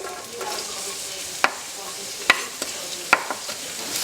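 Chopped onions sizzle in hot canola oil for Filipino pork adobo, a steady close fry punctuated by several sharp clicks of a utensil stirring against the pan.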